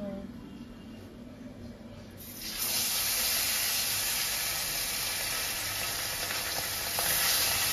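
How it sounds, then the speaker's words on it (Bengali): Bata fish dropped into hot oil in a home kitchen burst into a loud, steady sizzle partway through, after a quieter stretch of low hiss; the frying continues evenly with faint crackles. "এই যে বাটা মাছগুলো এখন ভাজা হবে।"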